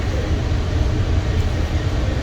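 Steady, loud rumble and broadband hiss from inside a moving passenger train's quiet car, a constant roar of wheels and carriage with no clear voices on top.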